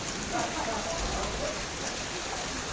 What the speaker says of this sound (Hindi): आज कुआपथर वर्षा होची